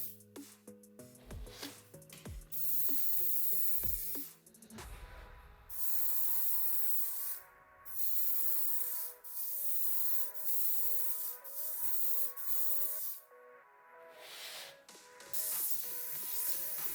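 A Gaahleri pistol grip airbrush sprays paint in several bursts of steady hiss separated by short pauses, close and fairly loud, after some handling knocks at the start.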